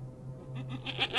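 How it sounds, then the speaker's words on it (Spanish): Goat bleating in a dramatized Spanish horror story, a few short wavering cries that rise in loudness over a low steady hum. "escuchamos el balar de una cabra"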